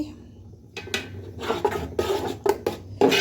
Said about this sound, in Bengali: টমেটোটাকে সেকে তেঁতুলের রস দিছি একটু তারপরে এখানে চিনি দিলাম আর মরিচের গুঁড়া দিছি এখন এটাকে নেড়ে নিচ্ছি